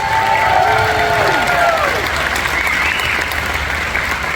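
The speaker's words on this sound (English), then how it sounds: "Let's give one more round of applause." A large crowd at the Geowoodstock event in Morgantown gives loud, steady applause with some cheering, while a voice carries over the clapping at the start.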